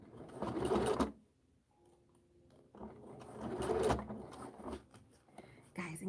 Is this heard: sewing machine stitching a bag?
yes